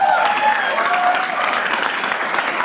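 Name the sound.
audience applause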